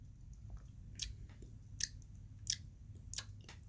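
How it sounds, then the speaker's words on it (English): Someone chewing a celery stick close by, a few crisp crunchy bites spaced about a second apart over a quiet low background. "As he chews his celery stick."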